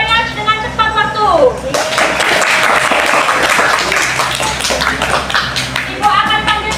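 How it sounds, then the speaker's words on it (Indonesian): Classroom applause for a student group that finished a task quickly: a burst of many hands clapping and tapping in a room, loud and sustained, with children's voices chattering around it. "tepuk tangan untuk kelompok yang menyelesaikannya dengan cepat waktu."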